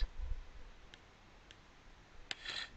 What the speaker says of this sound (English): You can probably hear my clicking.